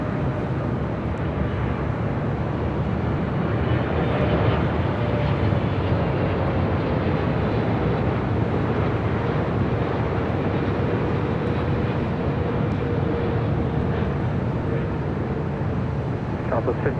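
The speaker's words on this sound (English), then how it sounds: "This is Turkish Airlines Flight 179 coming in from Istanbul on a 777-300ER" A Turkish Airlines Boeing 777-300ER arriving at LAX from Istanbul, a broad steady jet roar that holds loud and unbroken throughout, with a voice talking over it.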